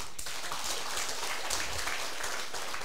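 An audience claps steadily through a lecture-hall session, a continuous wash of scattered hand claps with no one speaking over it.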